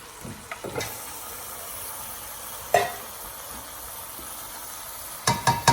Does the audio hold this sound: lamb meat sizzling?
yes